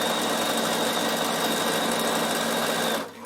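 A sewing machine runs continuously at a steady fast stitch along a fabric seam for a travel pouch, then stops abruptly near the end.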